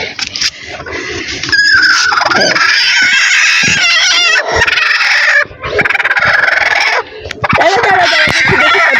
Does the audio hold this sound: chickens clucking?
yes